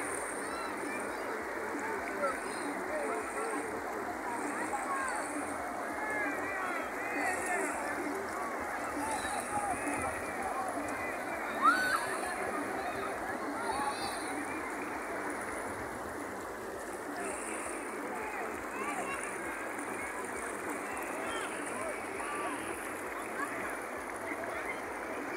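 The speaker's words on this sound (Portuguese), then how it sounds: "Muita água mesmo descendo aí" Heavy water rushes steadily downstream toward the Banabuiú reservoir in the Quixeramobim interior, a constant broad hiss of flowing water with someone speaking faintly over it.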